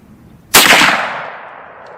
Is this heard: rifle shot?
yes